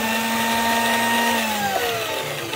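A homemade lathe driven by a portable electric drill runs steadily with a loud, continuous motor whine whose pitch slides lower as the speed is turned down near the end.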